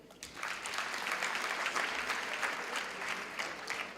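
Graduation ceremony audience applauding, a sustained wash of many hands clapping at steady strength from start to finish, heard across a large hall.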